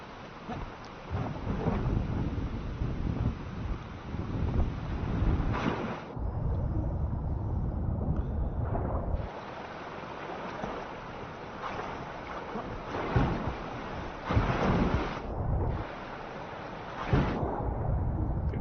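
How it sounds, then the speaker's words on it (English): Steady rushing roar of a waterfall in the video game Enshrouded, a dense, continuous wash of falling water that swells and dips slightly in loudness, with no voices over it. "The waterfall's still going there."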